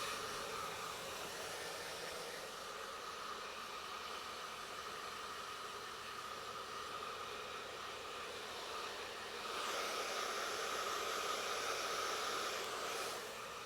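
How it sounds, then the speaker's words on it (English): A hair dryer blows steadily as a soft, even whoosh of air, quiet and constant, rising slightly louder for a few seconds near the end. "Is there a particular setting with the hair dryer that we're looking at too when we're drying that"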